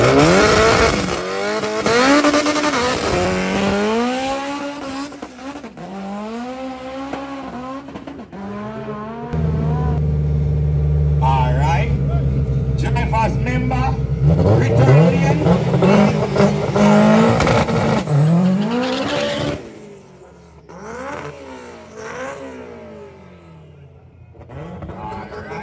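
Drag race cars launching off the line at a Jamaican drag racing event, loud rising engine revs and roaring acceleration close by, a sustained blast then passes fading into crowd noise and shouting.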